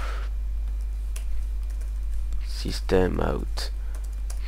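Java code typed on a computer keyboard gives a few light, scattered key clicks over a steady low hum, while someone speaks French partway through.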